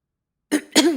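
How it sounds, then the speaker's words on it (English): A narrator in an audiobook performs two close, rough coughs in the middle of reading, short and throaty, following a moment of silence. "Manny coughed on her words"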